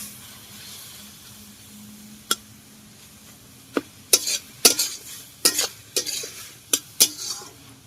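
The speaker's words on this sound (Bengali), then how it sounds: "এবার নেড়ে নেব।" A spoon stirs daliya khichdi with chopped onion and a little water in a pan, giving a quiet background then a run of sharp scrapes and metallic clinks against the pan, close and irregular, with no talking.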